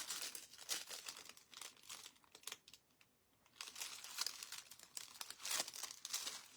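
Thin craft foil crinkles and crackles in bursts as it is pressed onto ankle boots, with a brief quiet pause midway before the rustling resumes.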